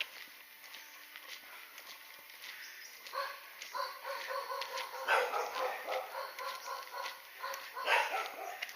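Guard dogs in Maosong Village bark in short, repeated bursts from a moderate distance. The barking is fairly faint and starts a few seconds in over quiet outdoor background.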